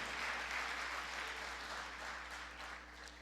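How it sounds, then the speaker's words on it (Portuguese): Congregation applauding at a church service, sustained dense clapping that fades slightly toward the end, with a low steady hum underneath. "Vamos aplaudir o Senhor."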